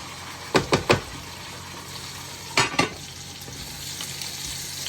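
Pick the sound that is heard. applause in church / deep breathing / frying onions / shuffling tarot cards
frying onions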